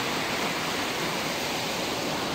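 A river current flows in a continuous, dense rush of broadband water noise, steady and close with no pauses and no voices.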